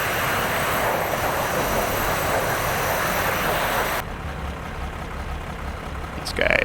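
Propeller aircraft engine of the player's plane in a military convoy video game, a loud steady drone that drops to a lower rumble partway through, with a brief bright burst near the end.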